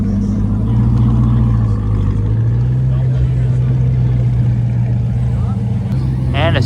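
Rocket Bunny Corvette engine in Forza Horizon 6, a loud steady low rumble with rising revs, heard under someone talking over it throughout.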